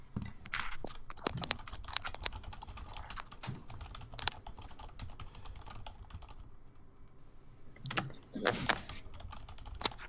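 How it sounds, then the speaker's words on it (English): Rapid, irregular clicks of someone typing on a moderately quiet computer keyboard, fairly close and continuous, with a few louder bursts of handling noise near the end. "Ah, yes, the sound of keys tapping."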